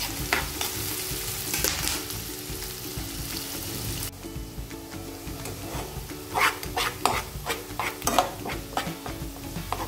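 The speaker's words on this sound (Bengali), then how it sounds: "মাছ ভাজা শেষ, এখন এই তেলে আমি পেঁয়াজ দিয়ে দিব।" Onions frying in oil left over from frying small bacha fish for a do-pyaza, giving a steady loud sizzle with scraping stir strokes and occasional sharper spatters, no talking.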